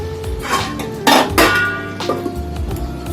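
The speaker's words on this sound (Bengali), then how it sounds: "ঢেকে রাখলাম।" A metal lid clatters onto a cooking pot of bhetki fish bone gravy, giving two or three sharp clinks and a scrape, close and loud.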